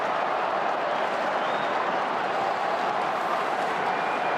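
Roaring stadium crowd at an AFL semi-final between Collingwood and West Coast Eagles, a steady broad wash of cheering and applause that holds at constant loudness throughout.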